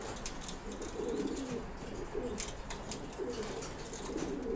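Pigeons coo in a pigeon loft during breeding pairing, several close, soft rolling coos repeating in overlapping phrases over faint background rustle.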